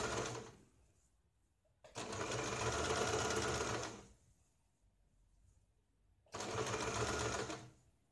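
Close sewing machine stitching a garment sleeve in two bursts of steady rapid whirring, each about two seconds long, separated by a quiet pause.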